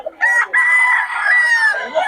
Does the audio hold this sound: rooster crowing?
yes